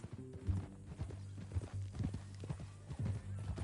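A horse's hooves clip-clop at a walking pace in Red Dead Redemption 2, an uneven series of soft, fairly faint thuds with a snort or whinny mixed in.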